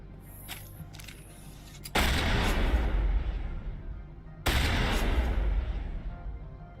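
Gunfire in Mass Effect: two heavy, booming blasts, the first at about two seconds and the second a few seconds later, each followed by a long rumbling decay over faint game ambience.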